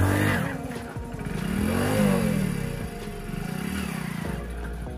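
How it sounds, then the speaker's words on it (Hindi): A motorcycle engine revs up and down in rising and falling surges during a wheelie attempt, close and fairly loud, with a clattery, mid-pitched roar. "और फिर करेगा ये व्हीली"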